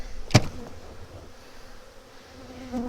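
Honey bees hum steadily at an open hive while a frame heavy with honey is handled; one sharp, loud knock lands near the start, and the low buzzing carries on faintly afterward.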